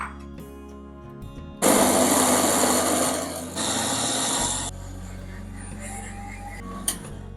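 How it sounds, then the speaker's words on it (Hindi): A blender whirs loudly for a few seconds blending ginger, lemon and half a cup of water, its pitch shifting as the mixture churns, then winds down to a low hum, with a faint voice nearby. "और इसे अच्छी तरह से ब्लेंड कर लेंगे।"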